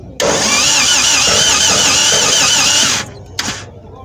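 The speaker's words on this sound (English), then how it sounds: "that's the sound of my starter just dying" A Toyota AE91 car with a failing starter motor cranks loudly and steadily for about three seconds without catching, then cuts off, followed by one brief second burst of cranking.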